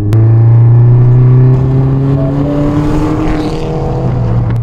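Mini Cooper S turbo engine accelerating, a loud close drone climbing steadily in pitch through the revs, continuous with no talk.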